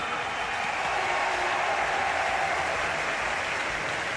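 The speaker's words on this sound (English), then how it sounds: "Big applause there from the crowd." Big stadium crowd applauding at the Munich 2022 European Athletics Championships, a dense, steady wash of clapping and cheering that holds loud and even for the whole stretch.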